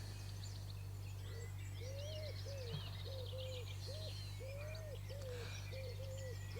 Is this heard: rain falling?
no